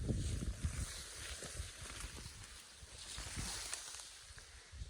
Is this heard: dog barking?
no